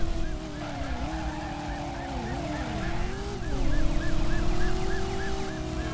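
Wailing police siren in the video game Driver during a car chase, rising and falling steadily throughout with a second siren tone layered over it, loud and continuous over engine rumble.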